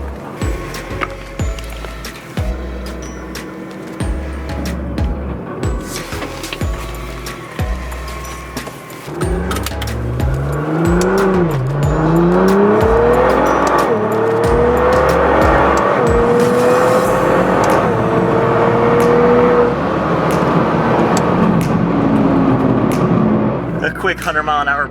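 A Nissan GT-R accelerates hard on a straight. The engine rises in pitch through several gears to a loud, sustained high roar, and an earlier stretch has bursts of wind and handling noise.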